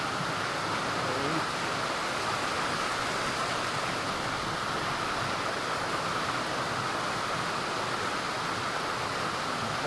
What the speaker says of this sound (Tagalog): This is the falls.